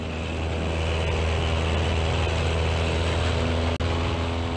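A Carbon Cub bush plane's propeller engine drones loud and steady during a STOL drag race at the Reno air races, holding one sustained tone with a brief dip near the end.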